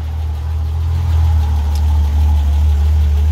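A BMW E30 with the M20 inline-six engine idles steadily after an oil cooler install, giving a loud, close, continuous low hum with no voices.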